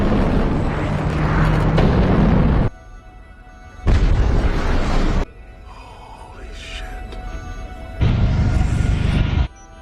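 Loud, roaring blasts from an exploding aircraft come in several separate bursts, each a few seconds long, divided by quieter stretches with a faint tonal hum.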